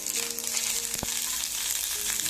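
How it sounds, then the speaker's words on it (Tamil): Coconut frying in hot oil left from frying cashews, for a moong dal sago payasam, a constant crackling sizzle up close with one sharp clink of a utensil against the pan. "இப்போ இந்த முந்திரி பொரிச்ச எண்ணெயிலேயே தேங்காய் பொரிச்சுக்கலாம்."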